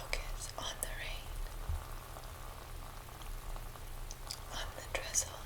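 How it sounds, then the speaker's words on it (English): Soft rain patters on a roof in a steady, gentle hiss with faint drips and crackles, heard up close and under quiet whispered speech. "The way it pitter patters on the roof."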